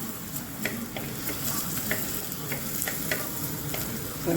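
Garlic sizzles steadily in hot oil in a home kitchen pan for sweet corn vegetable soup, a constant frying hiss broken by light, regular scrapes of a stirring spoon, close and alone.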